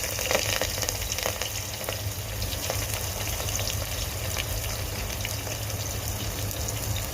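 Onion fries in hot oil with a steady, close sizzling hiss and light crackling, continuous throughout without any voices.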